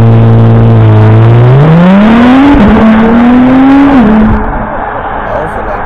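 A Honda Acura hybrid performance car, capable of 0 to 100 in under three seconds, accelerates hard with a loud, rising engine whine that climbs through a gear change and then eases off, heard close up.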